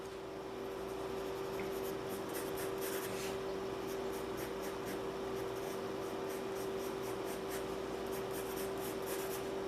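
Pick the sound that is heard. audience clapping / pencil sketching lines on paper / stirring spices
pencil sketching lines on paper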